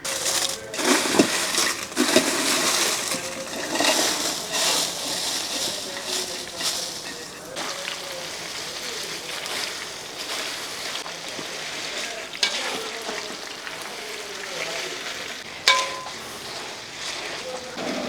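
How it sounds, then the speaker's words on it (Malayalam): Two kinds of dried red chillies, hot and mild, frying in oil in a large pan for Kerala-style mango pickle, a steady crackling sizzle with scraping and stirring clatter and intermittent talk. "ഇത് രണ്ടും കൂടെ നമുക്കൊന്ന് വറുത്തെടുക്കണം."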